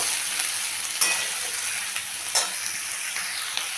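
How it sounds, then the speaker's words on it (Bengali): Spring onion stalks and onion sizzle in a frying pan, a continuous bright hiss with occasional stirring scrapes and clicks from a utensil. "এখন আমি এটার মধ্যে পেঁয়াজ কলিগুলো দিয়ে দিলাম, দিয়ে আমি পেঁয়াজ কলিটাকেও একটু ভেজে নেব।"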